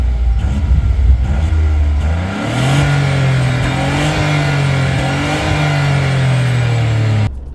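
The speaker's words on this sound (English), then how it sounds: "we're gonna have a tunnel test. Yeah. To see how the engine the engine sounds." A Dacia Sandero engine revs hard inside a tunnel, a loud, sustained mid-pitched drone that dips and then climbs steadily in pitch, the echoing roar filling the enclosed space until it cuts off near the end.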